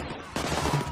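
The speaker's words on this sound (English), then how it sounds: "Rifle fire rings out across the streets as beautifully as a church choir" Rifle fire from the heist shooter Payday 2 erupts after a quiet lead-in, a dense, loud burst of overlapping gunshots crackling through a city street for the rest of the moment.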